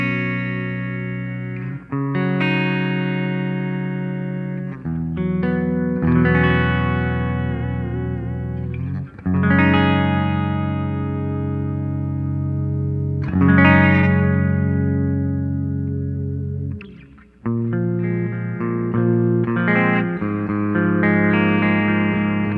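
Electric guitar played through a Joyo Zombie II XL tube hybrid amp head on its clean channel, with reverb in the effects loop: ringing sustained chords and single notes in phrases with short gaps, loud and alone.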